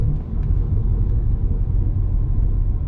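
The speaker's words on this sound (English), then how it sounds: "You can hear the supercharger whine and the engine roar" A 2022 Cadillac CT5-V Blackwing's supercharged engine gives a loud, steady low roar and rumble, heard continuously without breaks or speech.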